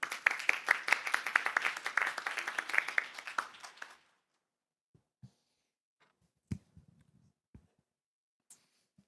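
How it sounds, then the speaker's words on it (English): A conference audience claps for a speaker for about four seconds, close and steady, then the applause stops abruptly and only a few faint knocks and rustles follow in a quiet room. "Thank you very much, and an applause for him,"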